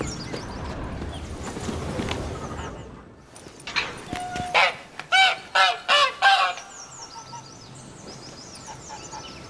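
A goose-like bird in The Witcher 3 honks in a rapid series of about six loud, close calls, preceded by game ambience and faint voices.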